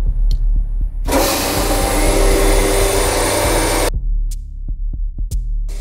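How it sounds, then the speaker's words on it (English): Vacuum hold-down pump on a Recontech 1312 CNC router switches on with a loud, steady broadband roar for nearly three seconds, then cuts off abruptly, leaving a faint low hum and a few soft clicks. "We need to activate the vacuum in order to hold the material in place."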